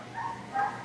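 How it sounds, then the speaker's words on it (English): A dog whines faintly in the distance outdoors in Northern California during an annular solar eclipse, two short thin whimpers rising over quiet ambient background. "Can you hear a dog in the distance whining?"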